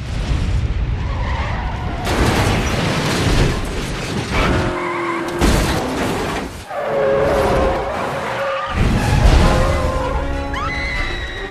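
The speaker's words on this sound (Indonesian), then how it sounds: "Mobil Kimberly sendiri akhirnya terjungkir, dan berujung meledak usai ditabrak sebuah truk berukuran sangat besar." A film car crash in which a car flips and explodes after being hit by a very large truck: loud, dense skidding, crunching impacts and booming blasts that fill the scene, broken by brief quieter gaps, with no speech.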